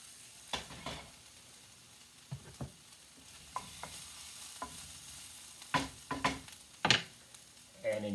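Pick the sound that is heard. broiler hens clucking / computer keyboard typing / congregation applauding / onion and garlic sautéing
onion and garlic sautéing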